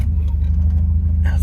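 A Volvo 242 idles nearby as it is moved forward, a low steady engine rumble with a lumpy pulse that stays close and even throughout, brief rustle near the end.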